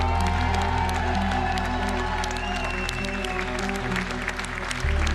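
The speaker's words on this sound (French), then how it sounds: "Ces longues minutes d'applaudissements, près de 5 minutes d'applaudissements non-stop" Crowd applause in a packed hall as Benoît Payan, newly elected mayor of Marseille, arrives at the podium: continuous dense clapping with some cheering over a low rumble of the room.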